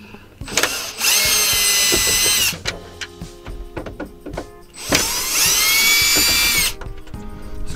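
A power drill backs out the four corner screws holding the radio in a Dodge Ram 1500 dash. Two loud, sustained whirring bursts come close up, with clicks and handling noises between them.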